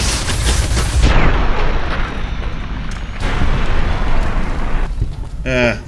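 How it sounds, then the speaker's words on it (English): Plasma explosion in the video game Fallout: New Vegas: a loud, broad roaring blast that decays, followed by a second burst and crackling game effects. "Love my plasma explosion."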